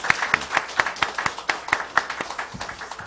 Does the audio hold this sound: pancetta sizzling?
no